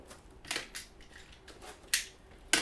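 A blade cuts open the cardboard packaging of an MSI GE72 Apache Pro gaming laptop, giving quiet, close slicing scrapes and a few sharp snaps spaced out.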